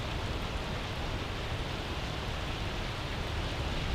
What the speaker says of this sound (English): now we're getting some moderate precip right here. You may be able to hear it hitting the roof above.